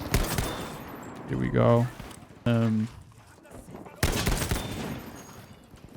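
Bursts of gunfire in the Battlefield V video game, sharp cracks in quick clusters alongside short tonal weapon effects, loud and close, with someone talking between the shots.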